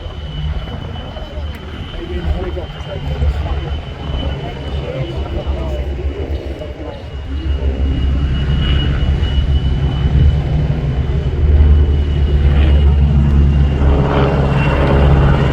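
Czech Sokol pair aircraft fly a display at RIAT, propeller engine drone building from a distant rumble to a louder sustained roar as they pass, with a commentator talking over it.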